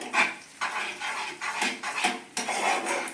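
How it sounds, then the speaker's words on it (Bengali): Spices being sautéed and stirred in a pan for a paneer dish: a spoon repeatedly scrapes and clinks against the pan in rhythmic strokes, close and fairly quiet, with no talking. "এই মশলাটা কষিয়ে নিচ্ছি আমি মশলাটাকে খুব ভালোভাবে কষিয়ে নিচ্ছি দেখুন"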